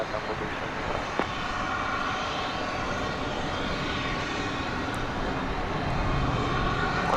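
Delta Airbus A220-300 on arrival from Salt Lake City at DFW, a low, steady distant engine rumble that swells slightly toward the end, with faint background noise.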